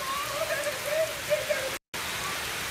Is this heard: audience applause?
no